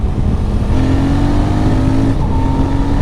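A Royal Enfield Super Meteor 650 twin engine revs in second gear around 40 mph on a group ride, a steady loud drone with rising tonal pitch and a gear change midway, heard alone.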